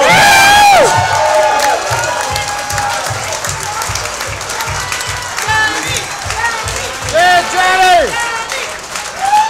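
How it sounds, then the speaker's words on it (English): A crowd at Harrah's piano bar in Las Vegas applauds Johnny Lang with loud, steady clapping and cheering. Whoops and raised voices rise over the clapping at the start and again near the end. "Give him a round of applause."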